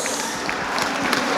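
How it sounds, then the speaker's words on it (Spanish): Wedding guests in Guerrero applauding the bride and groom, a dense, steady wash of many clapping hands that fills the room and holds throughout. "Fuerte el aplauso sí, para él y para Blanca."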